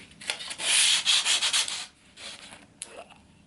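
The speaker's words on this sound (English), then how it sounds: "But for maximum surety, we will sand it." Hand sanding of a wooden window frame before painting, a close, loud rasping scrub in quick repeated strokes, then a pause and a few softer strokes.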